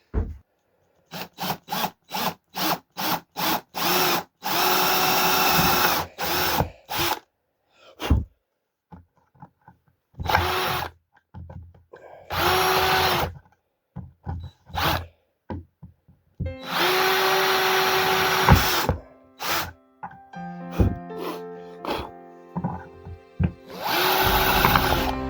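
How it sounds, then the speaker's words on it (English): A power drill boring through plastic for a prototype mold, heard close and loud as many short bursts and longer runs of whirring and grinding broken by pauses, ending in steady whining passes. "which is trying to drill through this plastic."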